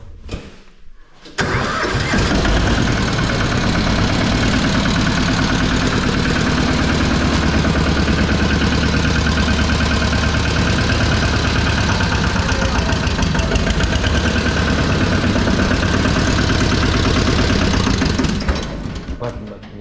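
A 12 hp Antor diesel engine with a fault that stalls when the clutch is pressed cranks and catches, then runs loud and close with a dense, steady clatter before cutting out near the end.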